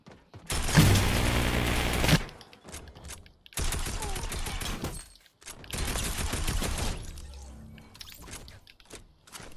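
Submachine gun fire in a first-person shooter video game: three loud, sustained bursts of rapid automatic shots, each lasting one to two seconds, separated by short pauses.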